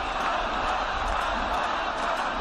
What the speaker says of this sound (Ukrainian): вигукують «Ганьба»